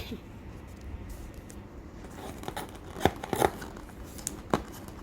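Scissors snip through the plastic packaging of a premium Swiss chocolate fondue set, a few quick crisp cuts and crinkles close by at a quiet indoor unboxing.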